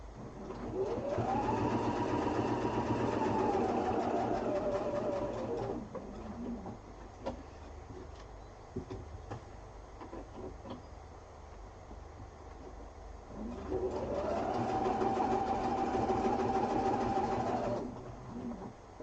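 Sewing machine stitching a quilted duffel bag, running in two steady whirring bursts that ramp up and wind down, with a quieter gap of faint clicks and handling noise between them, close and without talk.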